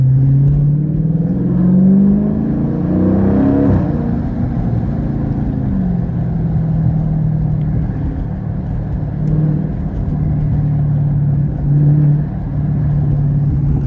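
A deep, steady engine rumble from a 392 engine's exhaust, fitted with a Z Automotive Tazer, with low droning harmonics that rise and fall slightly, close and loud, with no talking.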